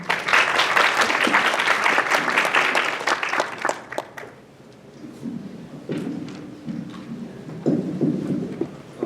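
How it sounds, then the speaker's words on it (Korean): An audience in a lecture hall welcomes a university lecturer with hearty applause that starts loud, fades after a few seconds and leaves scattered claps and thuds of shifting. "힘찬 박수로 맞이해 주시고요."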